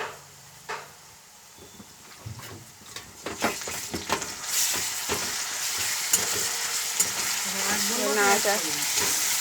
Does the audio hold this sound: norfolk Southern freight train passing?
no